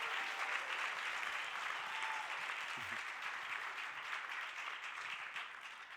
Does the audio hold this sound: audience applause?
yes